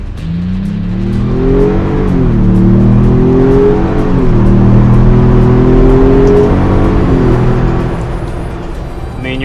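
A 2024 Ford Bronco engine revs and accelerates steadily in sport mode, its pitch climbing and shifting through gears, loud and close with a constant road whir underneath.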